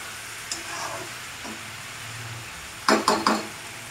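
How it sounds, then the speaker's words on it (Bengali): Masala fries in a pan with cauliflower, potato and egg for a Bengali-style curry, a soft steady sizzle broken near the end by a few sharp clattering stirs of the spoon against the pan. "এখানে ফুলকপির সাথে আলুর সাথে ডিমের সাথে মশলাটা আমি ভালো করে কষিয়ে নেব।"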